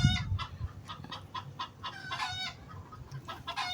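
Backyard chickens clucking close by, a string of short rhythmic clucks and calls that stays busy throughout, with no talking.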